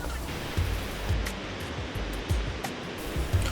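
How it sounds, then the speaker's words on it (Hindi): McLaren Falls near Tauranga, New Zealand: many small waterfalls give a steady, broad rush of falling water, close and continuous, with low surging swells and no voices. "ऑफिशियली इसको मैक्लेरन फॉल्स बोलते हैं, जहाँ पे आपको छोटे छोटे बहुत सारे वाटरफॉल देखने को मिल जाएंगे"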